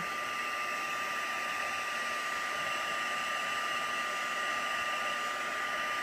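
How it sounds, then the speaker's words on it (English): Heat gun blowing continuously while heat-setting embossing ink on a craft piece, a steady close whooshing hiss with a constant whine, unbroken for several seconds with no talking. "now my heat gun is nice and hot"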